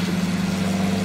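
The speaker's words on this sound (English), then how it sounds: "This John Deere tractor is just" John Deere tractor engine in Farming Simulator 19, a steady low idling drone with constant rumble and no pauses.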